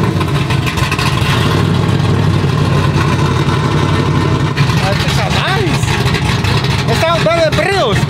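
Truck engine idling loudly and steadily up close after its timing was turned down a little, a deep constant rumble with voices talking over it toward the end.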